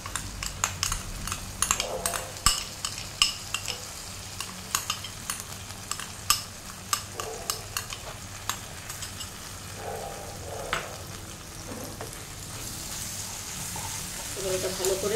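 Poppy seed paste fries in a pan while a utensil scrapes and taps against it in quick repeated clicks, over a continuous low sizzle, with brief murmurs of speech here and there.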